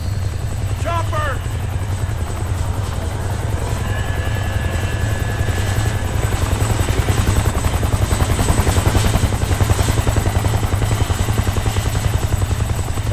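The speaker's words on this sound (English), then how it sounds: "Chopper!" A helicopter in Kane & Lynch 2: Dog Days flies close by, its rotor producing a loud, rapid, steady chopping thump that swells in the middle, with voices talking over it.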